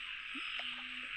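Frogs croak near a wet spot outdoors at night, a couple of short low calls over a steady high insect drone.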